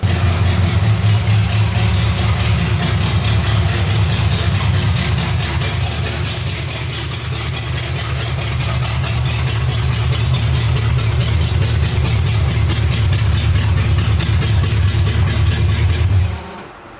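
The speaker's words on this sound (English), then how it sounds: "I'm gonna pull the car in here and see how it feels in here with the car" A car engine idles steadily with a low, even rumble as the car pulls into an enclosed DIY paint booth, loud and close throughout before cutting off at the end.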